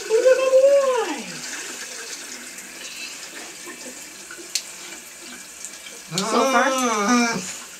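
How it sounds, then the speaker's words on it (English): Steady hiss of a tap running water into a bath, with a dog whining in bursts near the start and end and a brief spoken question. "we're just gonna pop the water on."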